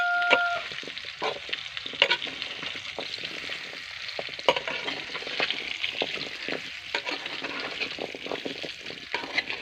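Ingredients for a menokai pickle fry in hot oil, giving a constant close sizzle broken by repeated scraping and clacking of a stirring utensil against the pan, with no speech.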